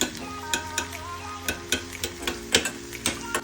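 Onions and green peppers cooking down in sauce in a pan, heard as a soft, steady sizzle broken by repeated clinks and scrapes of a utensil stirring at a fairly regular pace, close up and with no voices.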